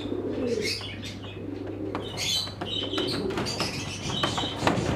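Semi-adult pigeons coo in soft, low repeated calls close by, mixed with sharper chirps and light rustling.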